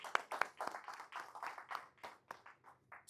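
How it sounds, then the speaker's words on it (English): An audience applauds to thank an organizer at a real estate income talk, with a brief burst of scattered, uneven claps close by and no voices. "clap it up for Jessica for putting this together"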